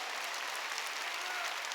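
Broad, steady applause from a church congregation during a Sunday worship service, a dense wash of clapping sustained throughout at moderate distance.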